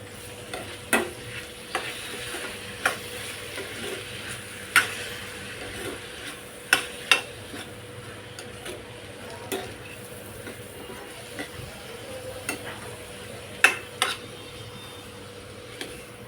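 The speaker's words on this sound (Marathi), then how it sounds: "मिक्स करूया. आता हे वाटण आपण त्याच्यात ॲड करूया." Ground masala paste is stirred into ivy gourd frying in a pan, a soft steady sizzle broken by repeated sharp spoon clinks and scrapes against the pan at irregular intervals.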